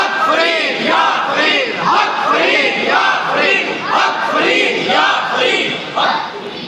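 A crowd at a gathering chants the slogan Haq Farid ya Farid in loud unison, with repeated rhythmic call-like surges of many voices, near and strong.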